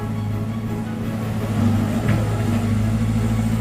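Caterpillar 320 GC excavator with its 145-horsepower diesel engine running nearby while clearing roadside trees, a steady low drone and hum that rises slightly midway, with no speech.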